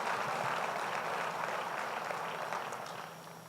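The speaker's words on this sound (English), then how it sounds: "I think we should give them a round of applause as well" Conference audience at a sustainability summit in Denver giving a round of applause, a broad steady clatter of many hands from a large hall that slowly fades toward the end.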